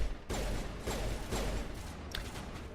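Gunfire in Mass Effect Legendary Edition: a dense burst of shots hitting foliage, with rapid, fairly loud sharp cracks repeating over a couple of seconds and a brighter impact near the end.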